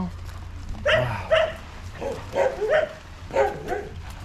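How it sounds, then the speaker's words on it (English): Several dogs at a shelter in Pakistan bark in a string of loud, close yaps and barks, with a person's voice faintly mixed in among them. "So many dogs."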